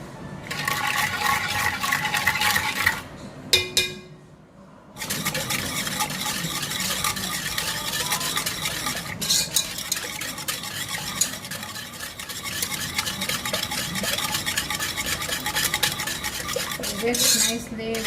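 Whisking coconut milk with sugar and agar in a bowl, a fast, continuous metallic scraping and sloshing close by, broken by a short pause before resuming steadily for the rest.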